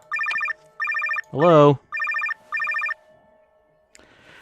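Telephone ringing in the video game NightCry: four short electronic double-trill rings in a steady pattern, loud and close, broken midway by a voice, with a brief click near the end.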